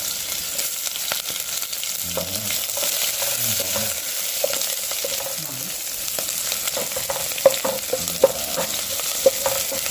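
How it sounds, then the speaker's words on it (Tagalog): Garlic, ginger and onion sautéing together in a pan, a steady close sizzle with repeated stirring scrapes and clinks of the utensil throughout, no voices. "sama-sama lang yung bawang, luya, sibuyas, gisa natin para magkagisa flavor lang siya"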